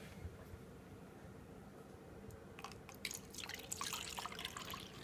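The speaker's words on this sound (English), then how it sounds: "put the beaker down so I can put vinegar in it" Vinegar trickles and splashes into a beaker during a homemade color volcano experiment; quiet at first, the liquid sound grows louder and busier in the last couple of seconds, with no talking.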